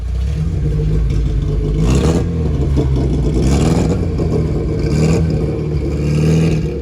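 A steel-framed Bugatti Chiron replica with a four-cylinder engine, running loud and close with a steady mid-pitched drone and a few rising revs, no talking.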